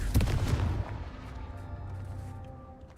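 A Confringo fire spell blast in Hogwarts Legacy, a single booming impact up front that decays into a rumbling, crackling tail, fairly quiet overall.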